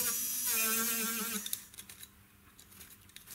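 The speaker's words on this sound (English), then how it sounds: "give the tip a nice polish. So to do that, I'm just going to use my cotton mop" Polishing motor spinning a cotton mop against the tip of stone-setting pliers, a steady high whine for about a second and a half, then fading into scattered light scuffs and taps.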